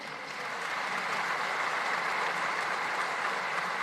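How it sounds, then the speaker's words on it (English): A large audience at a public event, where a minister speaks, applauds in a dense, sustained wash of clapping that swells in quickly and holds steady and loud to the end. "I want to invite all of you to give a round of applause for Mr."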